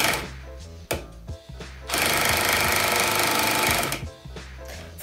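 A Würth AS 4 cordless screwdriver whirs loudly for about two seconds, then shuts off by itself, with a few clicks and handling knocks before and after the run.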